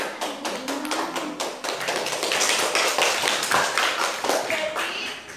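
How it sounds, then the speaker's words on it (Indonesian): A classroom group claps hands together, a dense, steady patter of overlapping claps that runs throughout, close and fairly loud, with a few voices mixed in underneath. "Ya, kita tepuk tangan dong."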